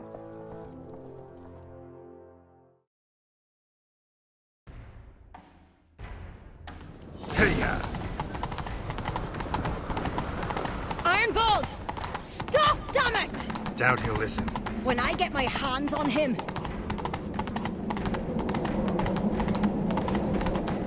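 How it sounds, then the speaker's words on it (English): A horse gallops in the video game The Witcher 3: quiet music, then a short silence, then rapid hoofbeats close by that run steadily to the end under clashing effects and spoken dialogue. "Grab a horse,"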